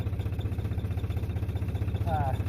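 An old tractor engine runs at a steady idle, with a low, even, rhythmic chugging close by.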